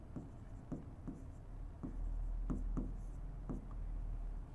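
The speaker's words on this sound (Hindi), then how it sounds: "सिमिलरली मैं लिखता हूं" Chalk or marker taps and scratches on a board while algebra is worked out, a series of short, faint strokes spaced irregularly across a quiet room.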